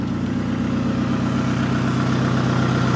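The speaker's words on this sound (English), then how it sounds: "Sounds like I got a little exhaust leak somewhere up here." A 2011 Hyundai Genesis Coupe engine idles steadily up close, a low continuous rumble with a faint rhythmic ticking puff from a small exhaust leak.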